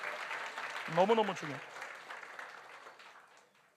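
A church congregation at a Sunday morning service applauds, a steady wash of clapping that fills the whole stretch while a preacher's voice talks over it near the start.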